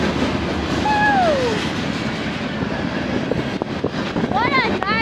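Eastbound Union Pacific mixed freight train passing close by, loud continuous rumble and clatter of cars with squealing wheel tones, while a person calls out excitedly over it.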